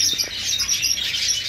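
Red-rumped parrots at a bird exhibition chirping in a lively, close chorus of bright overlapping tweets and short calls, continuous through the brief moment.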